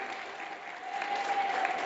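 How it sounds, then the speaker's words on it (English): Audience applause for a raffle winner at a school event, steady clapping from a crowd of moderate size, sustained and fairly even for its whole length. "Okay, guys, we can clap. We clap for winners."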